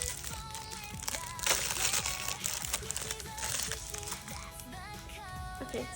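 Plastic packaging of a squishy toy is crinkled and torn open by hand, producing dense close-up crackling and rustling with sharp crunchy bursts, continuous throughout.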